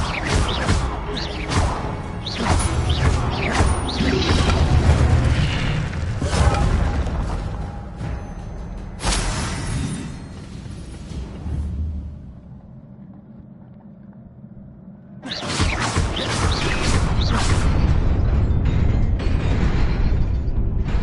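Fire spell blasts in a Hogwarts video game: a run of loud whooshing, crashing bursts, a lull into a quieter rumble, then another sustained roaring burst of fiery noise to the end.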